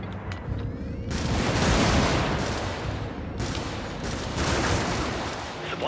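Loud, sustained video game gunfire in long, dense volleys with booming impacts, swelling and easing across the stretch with no break.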